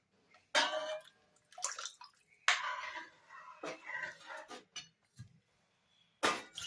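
Water poured into a pot of cooking dal for a sweet-and-sour Maharashtrian varan with jaggery and tamarind, arriving in several short splashing bursts with brief pauses between them.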